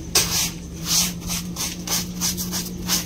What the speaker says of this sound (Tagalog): pagkuskus sa brush ng kanilang katawan